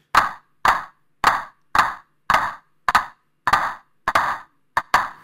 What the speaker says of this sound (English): while turning this knob clockwise, it adds additional slap that intrinsic to clap sound